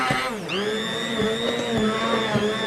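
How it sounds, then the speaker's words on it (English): An immersion blender whirs through soup with a loud, sustained motor whine that dips in pitch as it bites in, then holds steady with small rhythmic fluctuations as the blade works. "once it's done, we're just gonna get it with the immersion blender"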